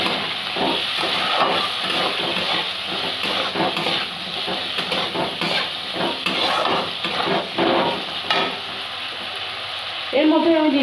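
Potatoes frying in a pan, a steady close sizzle and hiss with occasional stirring scrapes and clinks running throughout, fairly loud.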